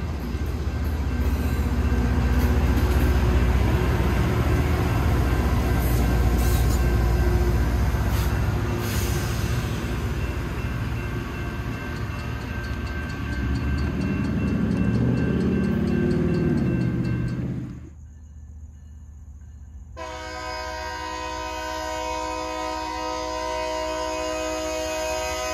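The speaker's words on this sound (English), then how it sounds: "This is a specialized, self-propelled train that's sole purpose is rail grinding." A Loram self-propelled rail grinding train with nine cars working on the Florida East Coast Railway, passing close with a loud, dense grinding roar that rises and falls, then cuts abruptly to a quieter, steady tonal hum.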